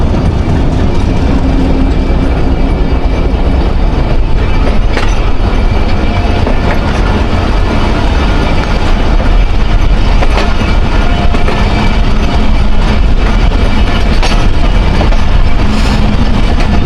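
The Thall Express passenger train, 130 Down, pulls out of a station. Its wheels give a loud, steady rumble and clatter on the rails, close by and constant throughout, with faint squeals and no voices.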